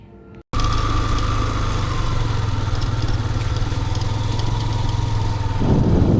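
A motorcycle rides along the Jamuna river bank, its engine humming steadily and close after a brief cut, with wind rushing past and no talking.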